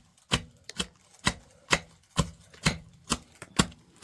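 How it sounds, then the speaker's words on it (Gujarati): Chillies and ginger are pounded into a paste, about nine sharp, evenly spaced thuds in a steady rhythm, close and clear with no talk. "આપણે આ રીતે મરચાં આદુને ખાંડીને એની પેસ્ટ બનાવી નાખશું"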